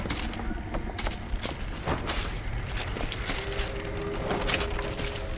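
Sniper rifle fire and other weapon shots in the shooter game BioShock Infinite, a dense run of sharp reports over constant combat noise, with a voice talking underneath.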